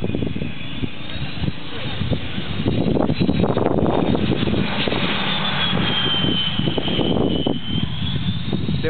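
An airplane comes in to land, its engine roar building and sustained loud overhead against wind, with voices talking briefly over it.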